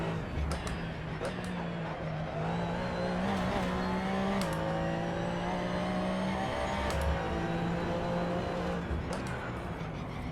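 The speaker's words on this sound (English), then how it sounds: "the engine sounds pretty standard affair. It's got a reasonable amount of depth and bass to it" A Porsche race car engine in the video game Assetto Corsa drones steadily with deep, bassy tone, shifting pitch slightly as it revs, continuous and fairly loud throughout.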